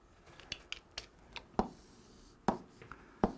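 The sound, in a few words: writing on a board during a math lesson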